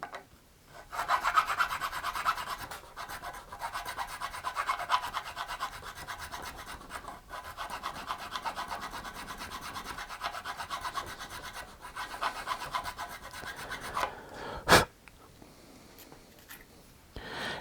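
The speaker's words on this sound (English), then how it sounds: "let me take the nut slotting file, and I will go a little bit deeper" A nut slotting file rasps into the slot of a guitar nut to deepen it, making steady, close back-and-forth scraping strokes for a long stretch. A sharp click sounds near the end, then near silence.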